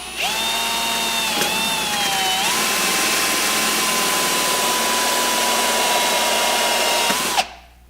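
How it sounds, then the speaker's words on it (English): A power drill turning a 1-inch hole saw, cutting a hole for a bulkhead connector on a Kubota BX25D, a loud continuous whine that dips in pitch early under load, then runs steadily before abruptly stopping. "So I'm going to drill a hole there now."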